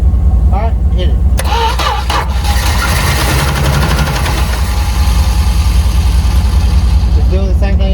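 An old Dodge truck engine cranks and rumbles close by with loud, uneven low-frequency churning, while voices speak intermittently over it.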